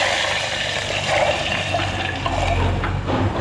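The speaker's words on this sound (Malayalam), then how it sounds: "പുളി ഒഴിച്ചു കൊടുക്കുക." Tamarind water is poured into a pot of rasam, a steady close splashing and gurgling of liquid that runs through the whole stretch with no voices over it.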